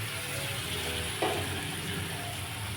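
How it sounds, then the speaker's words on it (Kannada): Drumsticks frying in hot oil in a pan, with a steady close sizzle, a short clatter of stirring partway through, and no talk. "ಈಗ ಇದಕ್ಕೆ ಅರ್ಧ ಇಟ್ಕೊಂಡಿರೋಂಥ ನುಗ್ಗೆಕಾಯಿ ಹಾಕ್ಕೊತಾ ಇದ್ದೀನಿ."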